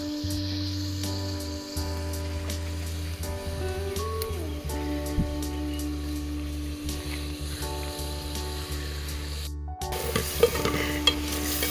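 Gongura chicken curry cooks in oil alone without water, stirred with repeated scraping and clinking over a constant sizzle, plus a steady hum, with a sharp clatter near the end and no talk.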